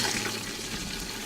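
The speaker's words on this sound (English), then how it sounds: "water is boiling." Water boiling at a rolling bubble, a steady broadband hiss and burble that stays fairly constant and moderately loud throughout, with no voices over it.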